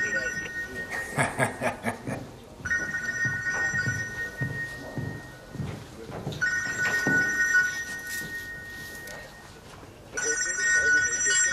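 A dead man's mobile phone rings, an electronic ringtone trilling in repeated bursts, while people talk and laugh over it.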